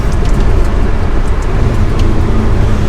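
A Ferrari 360 Challenge Stradale is driven on the road. Its engine and road noise form a loud, constant, close drone with no pauses or speech.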